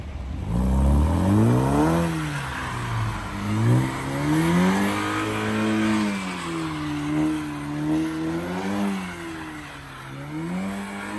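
A car spins a throttle-controlled donut drift, its engine revving up and down in repeated waves with tire noise, close and loud with no talk.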